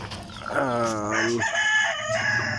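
A rooster crows loudly and close in a backyard flock at morning feeding time, one full cock-a-doodle-doo with a rising, wavering call, followed by chickens clucking nearby.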